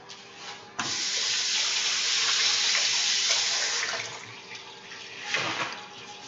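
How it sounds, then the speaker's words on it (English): A kitchen faucet turns on abruptly and runs steadily while hands are washed between batches of cookies, a loud continuous rush with a brief splashy surge near the end. "I'll wash my hands."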